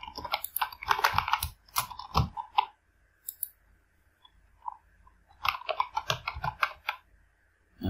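Bursts of close typing on a computer keyboard while checkout details are entered for an online purchase, quick clicking keystrokes in clusters separated by short pauses.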